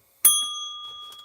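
A single bell struck once during a live rock sale, a bright sharp strike followed by a clear ringing tone that slowly decays over about a second, close and alone.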